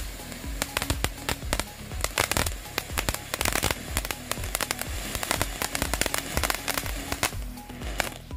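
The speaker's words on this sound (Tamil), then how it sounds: "அடுத்து வெடிக்க போகிறது கிரீன் ஃபவுண்டைன்ஸ்" Green fountain fireworks at a Diwali cracker test give off a dense crackle of sharp pops and bursts. They rattle on continuously for several seconds, close by and loud, and no voices are heard.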